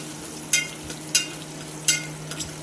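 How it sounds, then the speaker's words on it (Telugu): Cumin seeds and ginger fry in a pan under a constant soft sizzle, broken by three or four sharp scraping strokes of a spoon stirring them, close and without talk. "అవి వేగేంత వరకు కలుపుతూ ఉండాలి"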